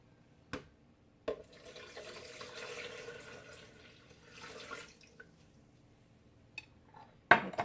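Two cups of water are poured into a cooking pot for red sauce for a few seconds, framed by sharp clinks of glass or a jug being set down, in a quiet room.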